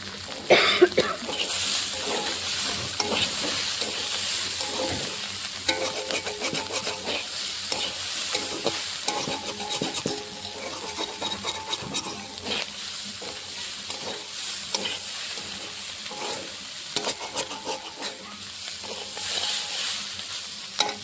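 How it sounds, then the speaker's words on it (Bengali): Small fish frying in mustard oil for a Bengali chorchori, a steady broadband sizzle with irregular scraping and stirring clicks, moderately close and continuous with no talk. "মাছ দিয়েছি আর কিছুক্ষণ সময় 2-4 মিনিট আর ভাজবো"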